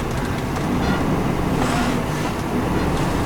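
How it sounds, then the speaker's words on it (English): A 10 ft box truck's engine drones low and constant, with a rattling, vibrating exhaust adding a rough buzz; the rumble is loud and steady from start to finish with no talking. "It's making a little exhaust-related noise"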